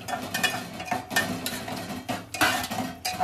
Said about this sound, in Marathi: आता इथे कलेजी घालून घेऊया याच्यात